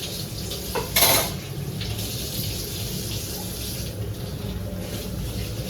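Tap water runs steadily into a sink while dishes are washed by hand, with a brief louder clatter of utensils near the start, then a continuous close splashing stream.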